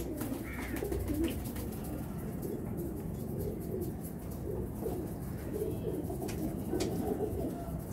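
Pigeons cooing in a loft of fancy show birds, a steady low murmur of overlapping coos running throughout at close range, with faint chirps above.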